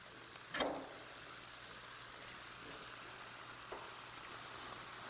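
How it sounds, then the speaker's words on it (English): A steady, soft sizzling crackle from sauce searing on a hot grill, with a brief clatter near the start and a faint knock later. "We can hear the sizzle of our hot grill searing that sauce there"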